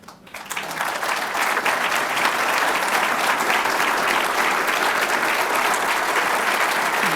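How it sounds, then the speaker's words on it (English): An audience at an economic freedom event breaks into applause that swells within the first two seconds into thundering, dense clapping and holds at full strength to the end. "I don't know if you can hear that applause, but it's thundering"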